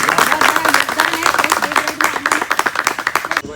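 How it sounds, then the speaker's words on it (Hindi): Staff at a police station farewell clap together in a dense, steady burst of applause that thins into scattered separate claps near the end, with voices mixed in. "सभी से जाएंगे कि ताली बजाएं भाई"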